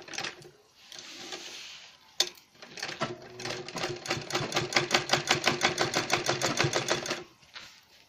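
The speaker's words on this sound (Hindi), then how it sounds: "और यहाँ से ऐसे ही सिलाई लगानी है।" A home sewing machine stitches a zip pocket into a designer bag, its needle running in a fast, steady rhythmic chatter with a few short bursts and pauses before a longer continuous run, heard up close and alone.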